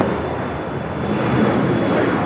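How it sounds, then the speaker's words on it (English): An Asiana Airbus A380 airliner at LAX passes with a continuous, broad rumbling roar, fairly loud and steady through the short stretch, with no voices. "Second Asiana A380 of the day"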